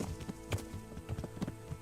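Horse hooves clip-clop in a steady, quick rhythm in the medieval game Kingdom Come: Deliverance, heard fairly faintly and close, with no speech over them.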